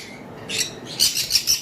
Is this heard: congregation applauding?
no